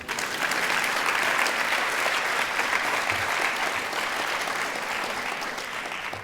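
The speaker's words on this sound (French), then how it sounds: "Aujourd'hui, vous pouvez applaudir la 3." An audience breaks into sustained applause, a dense, even wash of many hands clapping for several seconds, steady throughout and easing slightly near the end.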